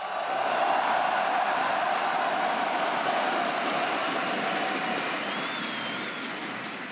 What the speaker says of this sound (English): The arena's on fire, Perks.